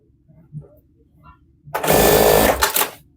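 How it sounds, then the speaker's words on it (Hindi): A sewing machine stitches right along the edge of a trouser pocket. A quiet stretch with faint voice sounds comes first, then a loud whirring burst lasts just over a second before it stops. "इधर फिर बिल्कुल किनारे पे सिलाई रख लगाएंगे"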